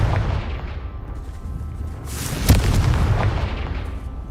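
A Confringo blasting spell from Hogwarts Legacy bursts as one sharp boom about midway, above a steady rumbling game backdrop with lingering crackle afterward.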